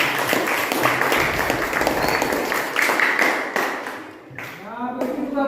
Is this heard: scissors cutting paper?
no